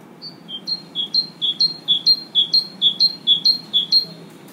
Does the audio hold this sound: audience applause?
no